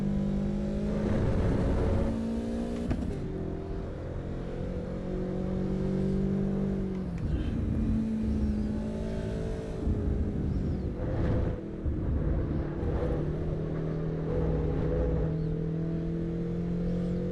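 A BMW car engine in the racing game Assetto Corsa Evo, droning and revving continuously with rising and falling pitch through gear changes, loud and close throughout, with no voices over it.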